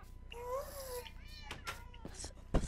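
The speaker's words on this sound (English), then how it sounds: "There's lots of cats." Cats in Minecraft meowing in the Nether, with several pitched, gliding meows spread across a few seconds against a low game hum and a sharp thump near the end.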